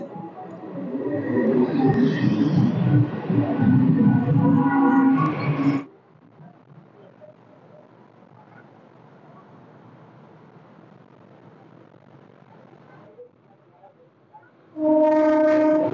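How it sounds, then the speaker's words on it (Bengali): At an Indian railway station a train bound from Bardhaman pulls in, sounding long, loud horn blasts at the start and again at the end, with a quieter low rumble of the approaching train in between. "বর্ধমানের ট্রেন ঢুকছে"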